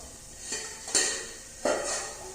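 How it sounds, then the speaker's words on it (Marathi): A lid comes off a pan where vegetables and leftover chapati cook over medium heat. Two or three light metallic clinks and scrapes sound close up over a faint kitchen background. "तर आपण इथं आता झाकण काढून घेत आहोत"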